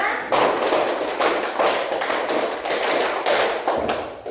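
Many hands clap in unison during a counted classroom rhythm game, a steady series of crisp, close slaps repeating for several seconds, with voices faintly mixed in.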